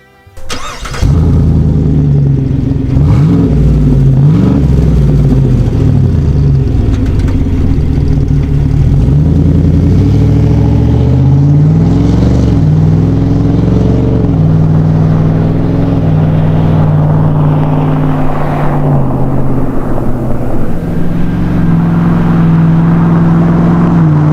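A GMC Yukon's 5.3-liter V8 with an aftermarket exhaust idles with a deep, rumbling note, then revs up and down several times, loud and close, with no talking.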